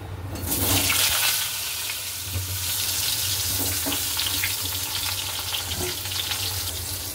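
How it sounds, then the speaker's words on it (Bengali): Three fish frying in hot oil in a home kitchen pan, giving a loud, steady sizzle that holds throughout with no voices over it. "3টে করে মাছ ভাজা হোক।"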